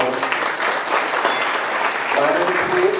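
Steady audience applause at a Gadi Lohar community association's state-level honours function in Kalyan, dense and continuous clapping from a crowd filling the whole stretch at even loudness.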